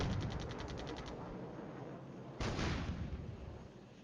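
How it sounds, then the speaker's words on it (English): Wargame video game combat between two sides at long range, a rapid burst of repeated gunfire followed by a heavy artillery boom that rumbles and fades, continuous and dense. "Both sides shooting here at 1000 meters distance"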